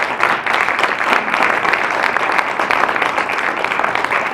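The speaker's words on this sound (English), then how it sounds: "can I get a big round of applause for our panelists today?" An audience breaks into sustained, dense applause for a panel at an office-trends event, loud and steady throughout with no voices on top.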